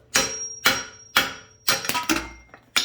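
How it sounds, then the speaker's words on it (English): Sharp metallic hammer blows ring out one after another as a ball joint is knocked out of a Honda Civic, about five hard strikes in a steady rhythm with a brief clatter between, close and loud. "I'm just smacking it with a hammer, and it's coming through."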